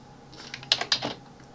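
Typing on a computer keyboard while working in Word 2019, a short burst of several crisp, close key clicks in quick irregular succession against a quiet background.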